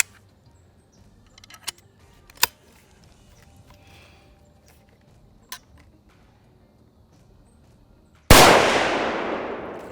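A single rifle shot cracks out loud and close near the end, trailing a brief noisy decay, after several seconds of quiet with scattered faint clicks and taps.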